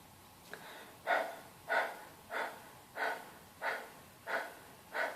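A group pants over their tongues like dogs in a breathing exercise: seven steady, evenly spaced breathy huffs about two-thirds of a second apart, close and moderately loud over a quiet room. The panting voices imitate a dog.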